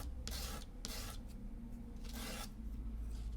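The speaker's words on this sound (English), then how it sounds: "So just taking some sandpaper and I'm just dragging it." Sandpaper dragged in short, repeated rasping strokes over a small clay ocarina-making tool being sharpened to a point, close and quiet, with rhythmic scratching bursts.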